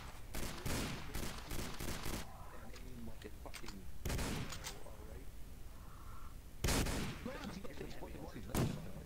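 Gunfire in a German occupation roleplay video game, with several loud bursts of shots and sharp cracks separated by quieter stretches, while voices talk underneath.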